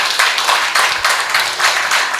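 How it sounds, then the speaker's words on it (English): Close, loud audience applause for an artist, a brisk burst of many hands clapping with slight rhythmic pulses over about two seconds. "Let's give him a round of applause."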